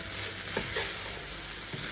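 Cabbage and mixed vegetables sauté in a pan with a steady, low sizzle and a few soft stirring clinks, heard up close.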